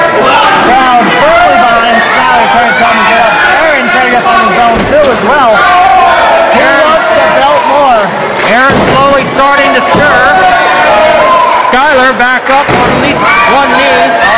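A wrestling crowd at an indoor heavyweight championship match roars in sustained, loud cheering and shouting for the wrestler Skylar, with voices overlapping throughout.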